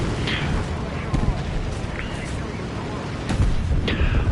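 Tank cannon fire and explosions in the War Thunder video game: dull booms and blasts recurring every second or so over a steady rumbling engine and battle din, fairly loud and close.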